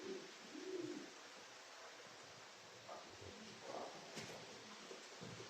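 Soft, low pigeon coos sound a few times at a distance over a quiet outdoor hiss, with faint rustling between the calls.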